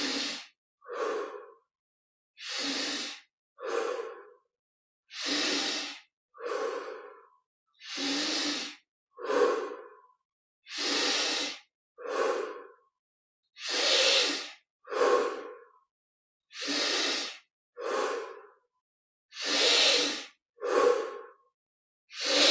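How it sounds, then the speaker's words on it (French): Deep, slow breaths during guided Kriya Yoga meditation, a regular series of about a dozen inhale-exhale pairs, each a soft, breathy rush separated by brief silences, close and alone. "Encore 10 respirations profondes, un peu plus d'air encore"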